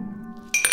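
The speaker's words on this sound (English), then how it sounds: "Ice cubes fall into a highball," Ice cubes drop into a highball glass with a couple of bright, close clinks near the end, following a quiet stretch with a low steady hum underneath.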